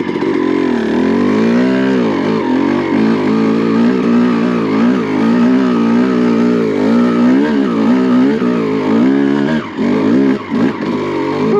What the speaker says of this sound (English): We're gonna see how low we can idle this bike down, being a motocross bike